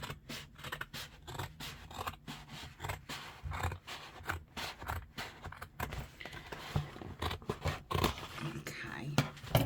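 Scissors snip through a paper gift bag close up in quick irregular cuts, with rustling paper between strokes and soft murmured speech.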